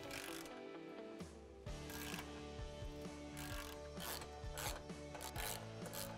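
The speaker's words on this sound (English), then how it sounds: "Now we want to push up and back on the plow mount and tighten all the bolts." A hand ratchet tightens bolts on a Tusk SubZero snow plow mount fitted to a Polaris RZR XP 1000, with a steady series of close, crisp clicking pawl strokes repeating in quick rhythmic bursts.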